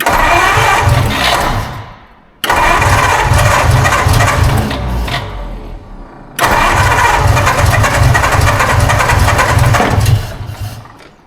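Engine of a 1952 Ford Crestline with a carburetor needing work cranking and catching, running rough at a loud idle, stalling twice and being restarted, each run ending in a fading sputter.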